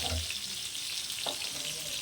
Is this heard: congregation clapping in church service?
no